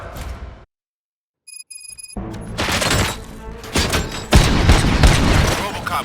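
Bursts of gunfire in the video game Robocop: Rogue City, with booms and impacts, loud and busy, following a brief silence and a few electronic beeps; speech is mixed in.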